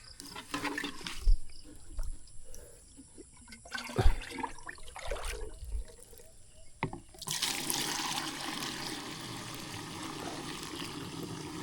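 Water is poured and mixed in a container, sloshing and trickling with intermittent splashes, then a sustained gushing rush in the later seconds; faint background sounds but no clear speech.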